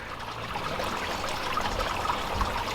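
Water runs steadily through an Aquascape pond filter system, a continuous close splashing trickle with no pauses or talk.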